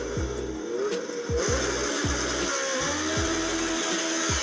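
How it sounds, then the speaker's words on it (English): A race car's engine, a stock K20 in an all-motor cut hatch, revs repeatedly in sharp rising bursts with steady high-pitched whine and rough exhaust tone, loud and close with no talk. "That car sounds good."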